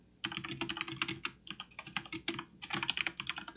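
Someone types on a computer keyboard while working out the period of a circular orbit, producing quick irregular bursts of close, crisp key clicks with short pauses between runs.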